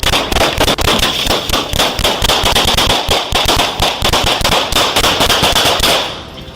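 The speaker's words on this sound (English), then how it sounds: "as gunfire thundered between pumps and patrol cars" Gunfire in a shootout between police and a suspect at a gas station, among pumps and patrol cars, heard as rapid, loud, close sharp bangs fired in dense bursts for several seconds before tapering off.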